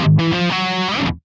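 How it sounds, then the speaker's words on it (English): Heavily distorted electric guitar plays a fast descending chromatic triplet rock riff, loud and close, with dense harmonic notes stepping downward for about a second before stopping abruptly. "which is a descending triplet, and it is chromatic as it moves down."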